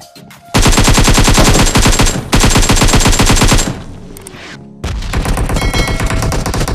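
Rapid automatic gunfire in the mobile battle royale game PUBG Mobile, loud close bursts that stop briefly, resume, then continue at a slightly lower level, with no talk over them.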